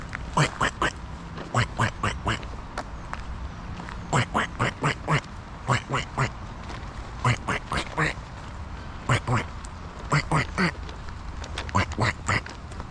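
Ducks at a Virginia campground quack in repeated rapid bursts, loud and close. The calls come in clusters with brief pauses between them, and a few faint voices sit underneath.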